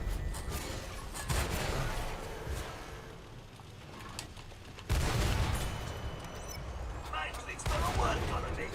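Heavy tank cannon fire in the World of Tanks video game, a couple of loud booming blasts several seconds apart over rumbling engine and mechanical clatter.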